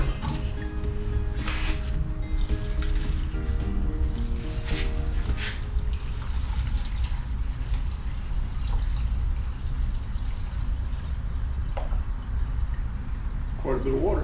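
Water pours steadily into a container until it rises past the fill line, a continuous splashing trickle running under people talking nearby.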